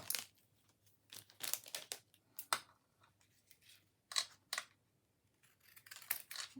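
Large scissors snip through paper in short, irregular cuts while making Christmas cards, close and quiet, with brief rustles and pauses between snips.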